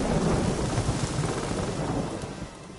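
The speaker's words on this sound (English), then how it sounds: "A storm, damn it." Thunderstorm in The Witcher 3: Wild Hunt, a heavy rumble of thunder over steady rain that slowly fades, with no voices.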